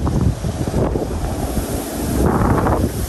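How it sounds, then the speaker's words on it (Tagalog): Strong wind blows across rice fields under an overcast sky, a loud, steady rush that buffets the microphone, with gusts swelling and easing and no talking. "Tapos po ay mahangin."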